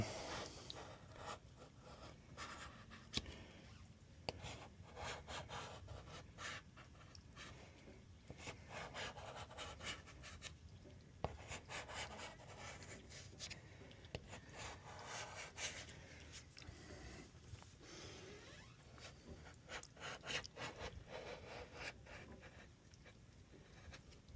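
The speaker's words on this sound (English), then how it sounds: "Alright, so we'll start scraping her up." A scraper is worked over a boat's gelcoat to lift airbrush paint softened by a citrus stripper, making faint repeated rubbing and rasping strokes throughout.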